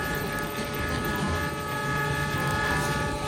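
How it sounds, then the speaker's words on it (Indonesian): A Rail King toy steam locomotive runs along its track with a steady mechanical whir and a rattling rumble. The sound stays continuous and fairly loud with no voices. "Lihat kereta Rail King uap"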